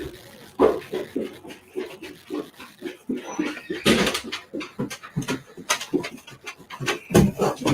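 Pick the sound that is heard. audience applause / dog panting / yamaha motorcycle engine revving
dog panting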